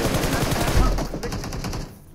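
Rapid automatic gunfire in PUBG Mobile rattles in dense, fast bursts up close, then thins into scattered shots as the volume drops away.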